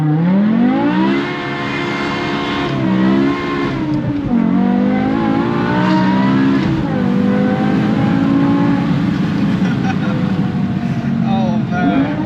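The V10 of a 2008 BMW E60 M5 revs and pulls, a loud, sustained, close engine howl that climbs, steps through gear changes and holds a steady drone, with overlapping voices in places.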